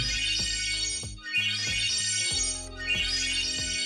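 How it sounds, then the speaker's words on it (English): A loud find-phone alert tone is triggered from a Maxima Max Pro X5 smartwatch and plays on the paired phone. A bright, repeating electronic melody cycles three times, clear and close, with no talking. "we have the find phone option, and this plays a loud tone on your phone in case you misplace it."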